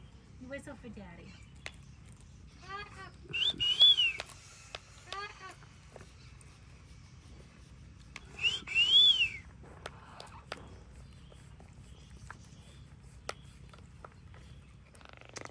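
A pet bird whistles in two short bursts a few seconds apart, copying its owner's whistle, with quiet background noise and faint clicks between the calls.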